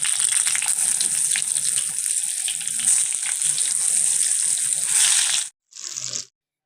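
Beef kebabs fry in hot ghee with a loud, bright, continuous sizzle up close. It cuts off abruptly, returns in a short burst, then falls silent.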